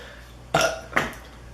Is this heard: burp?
yes